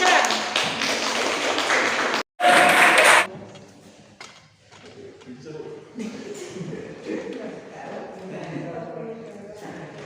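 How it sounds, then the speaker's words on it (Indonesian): Students in a classroom clap for a group for about three seconds of loud, dense applause with a short break. A quieter room with faint voices follows. "Beri aplaus untuk kelompok 3."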